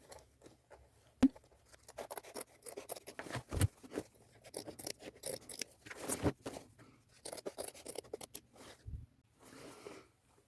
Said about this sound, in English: Now I'm going to cut along this white line.